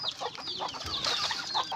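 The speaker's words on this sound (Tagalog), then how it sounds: "kumakain naman dyan yung ating mga alagang manok" Pet chickens cluck softly and repeatedly while eating, amid scattered pecking and rustling, a busy close-up flock sound with no talking.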